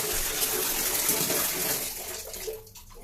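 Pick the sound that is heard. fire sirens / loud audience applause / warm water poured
warm water poured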